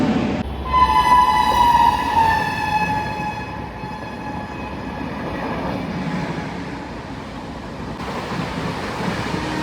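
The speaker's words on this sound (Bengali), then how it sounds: "ফাইনালি আমাদের বর্ধমান লোকাল হাওড়া যাওয়ার জন্য চলে আসলো" A Bardhaman local train bound for Howrah pulls into the station with a loud, long horn blast, then the heavy rolling rumble and clatter of wagons continues steadily nearby.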